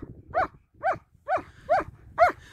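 A German Shepherd or Husky barks five times at a steady, unhurried pace, each bark short and fairly close.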